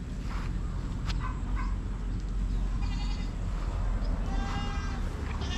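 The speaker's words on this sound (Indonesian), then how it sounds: "Kambingnya tidak takut orang." Goats bleat repeatedly at a lakeside village in Brunei, several short, wavering calls from young and adult animals at moderate distance over a steady, noisy outdoor background.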